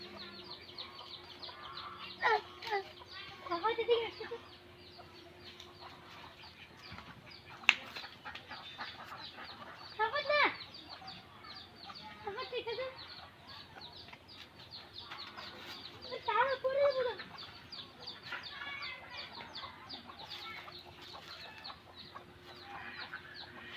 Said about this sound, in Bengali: ওই যে মুরগি বাচ্চাগুলো।